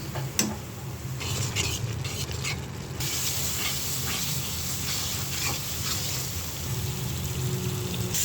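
Ginger-garlic paste, turmeric, chili, cumin and coriander powders fry in oil for a mustard hilsa curry, giving a continuous moderate sizzle with soft stirring scrapes throughout.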